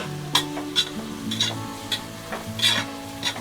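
Mushroom biryani masala sautéing in a pan, a low steady sizzle with repeated light clinks and scrapes of a spoon stirring against the metal, close up, with a faint tonal hum running underneath and no talking.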